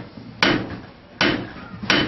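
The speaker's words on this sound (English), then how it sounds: "I'm squeezing this hot metal between my anvil" A blacksmith at Old Sturbridge Village strikes hot metal on an anvil with a hammer, three sharp, ringing blows in a slow, uneven rhythm, loud and close.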